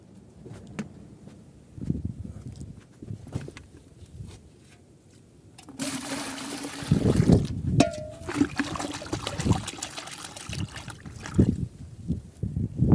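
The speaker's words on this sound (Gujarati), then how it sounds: "હવે મિત્રો ડોલમાં થોડુંક પાણી નાખી" After a few knocks and handling sounds, water gushes into a bucket for several seconds, splashing and then running more unevenly.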